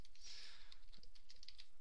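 Quiet typing on a computer keyboard, a loose run of soft clicks and taps spread across the whole moment with no talking.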